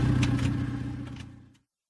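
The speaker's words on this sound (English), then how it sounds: "My car's making a funny noise. It sounds bad." A car engine making a funny, bad-sounding noise, running with a rough pulsing rumble and a couple of brief rattly bursts before cutting off abruptly into silence.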